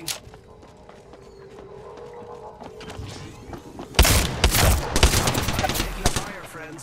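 Gunfire in a shooter video game: after a few fairly quiet seconds, loud, dense bursts of rapid shots break out and continue steadily to the end.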